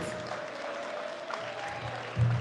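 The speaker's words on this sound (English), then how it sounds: "Give Lamin Konate a round of applause" Applause for chairman Lamin Konate at a UDP party congress in London, a soft, even patter of clapping from the crowd that ends in a brief low thump.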